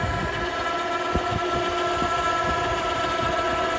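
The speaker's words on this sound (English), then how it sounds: "This is the little portable winch setup that we came up with." A small portable winch running off a battery pack gives a steady, close motor whine with a faint rhythmic vibration, and nothing else is heard.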